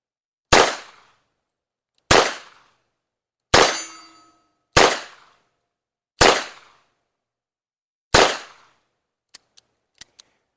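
Six revolver shots fired one-handed with the offhand, each a sharp loud crack with a short decaying ring, spaced about one to two seconds apart, followed by a few faint metallic clicks at the end.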